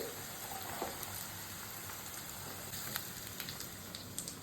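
Onions, mustard seeds, cumin and broad beans (goru chikkudukaya) fry in a pan, giving a steady low crackling sizzle with scattered small pops throughout, fairly faint and without talk.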